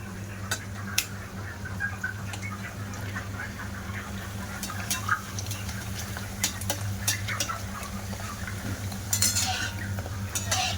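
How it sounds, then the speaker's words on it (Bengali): Fuchka puris made without atta or maida fry in hot oil and are turned over, producing a steady low bubbling hum scattered with sharp crackles and occasional utensil clicks throughout. "এবার উল্টে পাল্টে লাল লাল করে ভাজা করে নেব ফুচকাগুলো"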